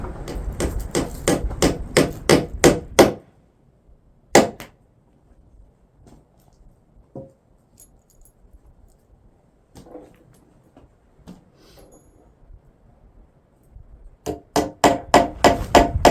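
Nails are hammered into a homemade wooden bench: rapid bursts of sharp, loud blows open and close the stretch, separated by a long quiet gap holding only a single strike and a few faint knocks.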